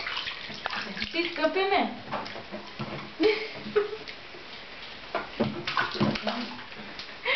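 A child splashes and sloshes water out of a bathtub, with irregular splashes, drips and knocks while an adult speaks over the activity throughout.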